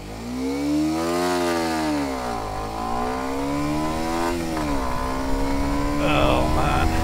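A Kawasaki Ninja 125 motorcycle revs up for a clutch-dump launch, then its buzzing engine note climbs and drops through gear shifts as it accelerates, loud and close, with a brief voice near the end.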